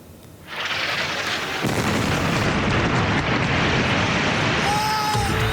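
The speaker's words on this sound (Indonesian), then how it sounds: "rekaman video menunjukkan ledakan akibat serangan udara Israel menghantam sejumlah gedung" A loud, continuous roaring rumble of explosions from an airstrike hitting buildings, rising suddenly and staying dense and sustained, like heavy blasts echoing nearby.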